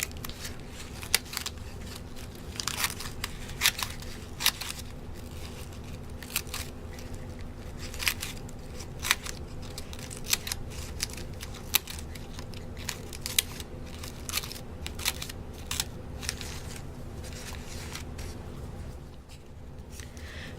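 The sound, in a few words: scissors cutting cardboard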